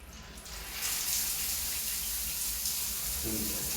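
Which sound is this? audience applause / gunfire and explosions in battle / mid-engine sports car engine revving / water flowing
water flowing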